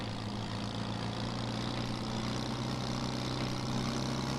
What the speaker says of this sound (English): We do have traffic.